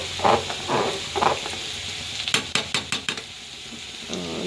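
A spoon scrapes and knocks around a home-cooked pot of khichuri with turmeric and salt just added; a quick run of sharp clinks and stirring scrapes comes up close after softer clatter, with no talking.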